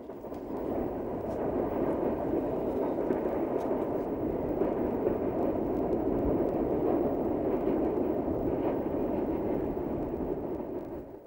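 The Canadian streamliner passenger train travels through the Rockies with a steady, moderately loud low rumble that holds throughout, without horn or voices.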